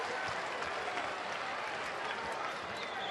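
Baseball stadium crowd cheering and clapping in a steady dense roar during a Philadelphia game, continuous and even with no break.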